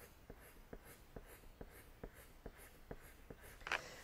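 Sharp pencil pressed firmly on textured drawing paper, giving a steady, regular scratch of strokes about every half second, quiet and close with a soft hiss between them, no speech.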